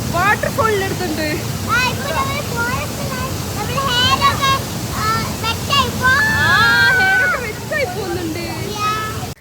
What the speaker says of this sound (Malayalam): വാട്ടർഫോളിൻ്റെ അടുത്തുണ്ട്.